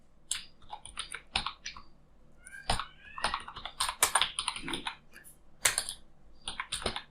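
Close-up typing on a computer keyboard while entering resume details into a table, heard as irregular bursts of crisp key clicks with short pauses and no talking.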